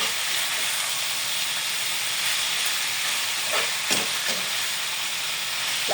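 Garlic browning in a hot pan gives a steady, loud, even sizzle with a couple of brief sharper spits near the end, and no voices over it.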